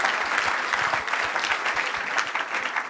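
A church congregation claps steadily together at an evening vigil, a full, even burst of applause close by with no talk over it.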